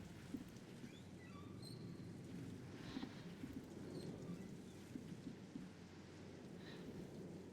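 A storm in the horror game Slender: The Arrival plays as steady rain with a low rumble of thunder. It stays quiet and distant throughout, with a few faint higher chirps over it and no talking.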